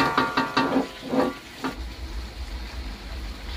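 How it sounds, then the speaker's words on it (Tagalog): Pork sautéing in a pan with garlic and onion for pork afritada gives a steady low sizzle, with several clattering stirring strokes in the first half before the frying settles into an even hiss. "ilalagay na natin yung pork para masute siya sa garlic and onion"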